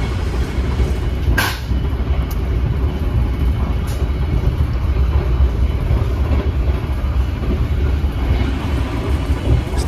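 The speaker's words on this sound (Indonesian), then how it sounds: "setelah lepas dari stasiun Prupuk, ini kecepatan kereta api Purwojaya mulai digeber sampai ke kecepatan maksimal 120 km per jam ya." Interior of the Purwojaya executive passenger train between Cilacap and Jakarta running at speed toward 120 km/h, a continuous low rumble of wheels and car noise with a faint steady whine and a few brief clicks.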